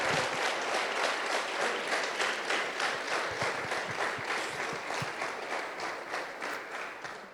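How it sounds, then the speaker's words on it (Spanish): Church congregation applauding to glorify the Lord, a dense, steady wash of clapping from many hands that carries on throughout without talk. "Le damos un aplauso de gloria al Señor"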